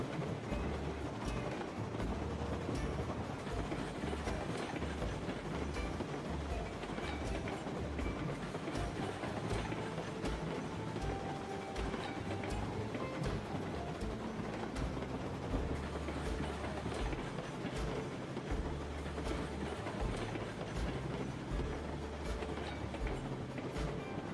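Train running in the video game Railroads Online, a steady low rumble with rhythmic clickety-clack of wheels over rail joints, continuous and fairly close throughout.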